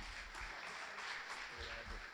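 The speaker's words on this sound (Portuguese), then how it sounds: "Seja bem-vindo, Ricardo," Audience applause welcoming a speaker onto the stage at an innovation talk, a steady dense patter of clapping held at an even, fairly quiet level throughout.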